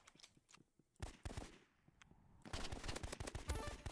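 Rapid bursts of gunfire in the Roblox game Rivals, fairly faint, with a scattered run of quick shots, a short lull, then a denser stretch of repeated shots toward the end.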